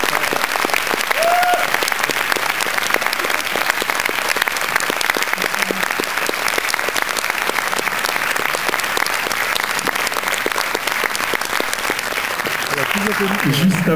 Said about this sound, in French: je vais vous demander de redoubler d'applaudissements